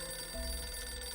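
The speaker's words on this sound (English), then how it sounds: "A phone rings." A telephone rings once in the video game Reverse: 1999, a short trilling tone that stands out against a constant electronic game backdrop, with no voices.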